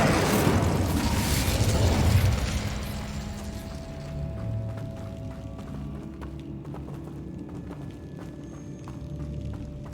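An Incendio fire spell blasting in Hogwarts Legacy, a loud burst of rushing flame with a low boom that fades after a couple of seconds into quieter footsteps and ambience.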